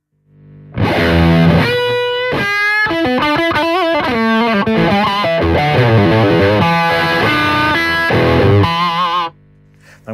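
Electric guitar re-amped through a Helix Soldano amp model with light overdrive plays a loud, continuous run of distorted single notes and chords for several seconds, then cuts off abruptly.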